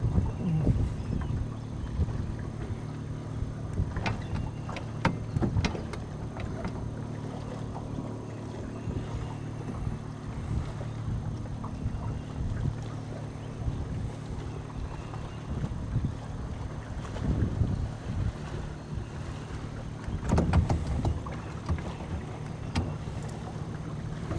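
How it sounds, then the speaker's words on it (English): Steady wind blowing across a lake while drifting in a boat fishing a river stretch, a constant broad rush with occasional knocks and water sloshing against the hull, close and continuous with no talk. "I'm still plagued by that wind blowing me up lake."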